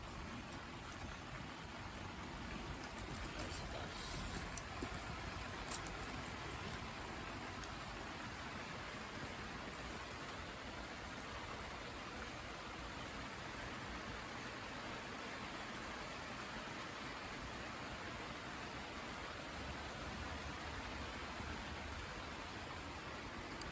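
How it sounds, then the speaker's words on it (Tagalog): Heavy rain pours down in a steady, dense wash of noise, fairly soft and unbroken throughout. "Bumuhos na naman ang ulan."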